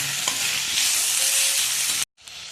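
Steady loud sizzling and frying from tomatoes sautéing in a pan, with a brief stirring scrape, then the sizzle cuts out abruptly and resumes more quietly.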